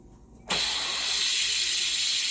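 An Instant Pot pressure cooker venting steam, starting abruptly with a sharp burst and then a loud continuous hiss that holds steady, with no talking.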